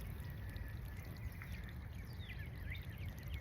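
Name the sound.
light trickle of water flowing in a small park creek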